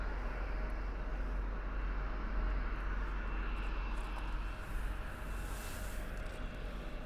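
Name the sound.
Alaska Airlines plane coming in at Toronto YYZ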